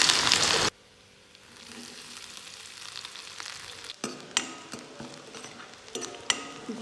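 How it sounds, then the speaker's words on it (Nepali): Garlic and ginger hit a hot frying pan for a horse gram dal, opening with a loud burst of sizzle that settles into a steady, softer frying hiss with occasional scraping clinks of stirring. "अब चाहिँ मैले यसमा चाहिँ लसुन र अदुवा हाल्न गइरहेको छु।"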